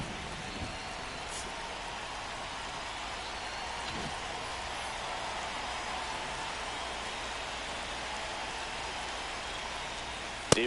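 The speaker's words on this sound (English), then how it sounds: "This rain is not letting up." Steady rain falls on a ballpark in the MLB The Show 25 video game, a constant, even hiss that runs unbroken through the whole stretch, with a faint click near the end.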